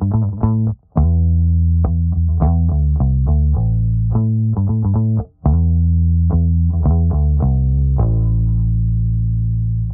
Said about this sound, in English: So now I have a 70s Fender Musicmaster Bass.